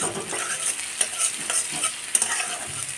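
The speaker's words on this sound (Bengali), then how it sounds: "আদা কুচি দিলাম। এটাকেও ভালো করে নেড়ে নেব।" Chopped ginger sizzles in a frying pan while being stirred during pasta cooking. An even, hissing fry sits under soft, irregular scraping strokes and a few small clicks of the utensil, heard up close with no voices.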